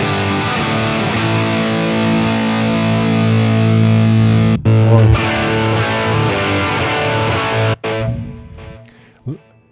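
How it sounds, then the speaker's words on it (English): Heavily distorted electric guitar power chords ring out loud and sustained in a classic rock style, with a few abrupt cut-offs between chords and a brief string scrape at the end. "Check out your distortion which you have, how it sounds exactly with these chords"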